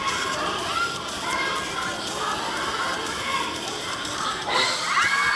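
A crowd at a Thai military conscription draw in Phetchabun cheers and shouts loudly and continuously, with many voices near and far and a louder surge near the end.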